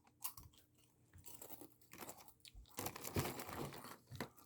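Crunchy Crayon Shin-chan snacks being chewed close to the mic, a steady run of crisp bites and crackling munches with a brief wrapper crinkle.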